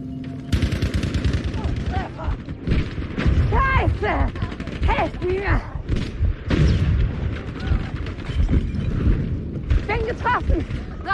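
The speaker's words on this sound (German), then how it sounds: "Ich werfe Granate." Battlefield 5 combat with a grenade blast among dense gunfire and booming explosions, loud and continuous throughout, with radio-style voices and in-game speech over the top.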